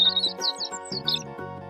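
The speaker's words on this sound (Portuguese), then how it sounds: "Pintinho." A baby chick cheeping in quick, high, bright chirps over soft musical backing, several short peeps in a row.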